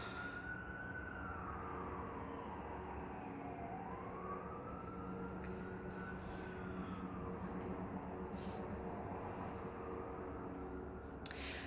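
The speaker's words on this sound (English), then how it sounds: "So, sorry, the sirens." Distant emergency siren wailing slowly up and down, faint and continuous beneath steady background noise, with no one speaking.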